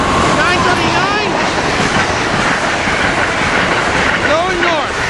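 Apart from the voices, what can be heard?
Amtrak Carolinian Train 80 passing northbound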